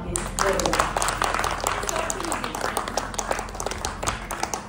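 Clapping from an audience at a school reunion gathering honoring a teacher, a run of scattered hand claps throughout, moderately loud, with voices talking over it.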